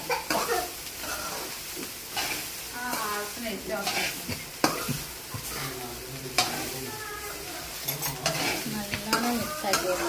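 Fried rice is stir-fried in an oiled pan, with a steady sizzle and repeated scraping, clanking strokes of a spatula against the pan over ten seconds, close and fairly loud, with no talking.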